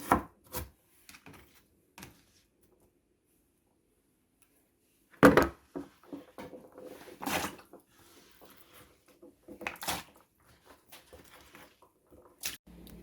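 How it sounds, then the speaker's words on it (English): Fresh garlic being chopped with a knife on a board for oyster stew, giving sparse, close, sharp knife strikes in short bursts separated by quiet gaps. "I'm cutting up some fresh garlic to add to my oyster stew"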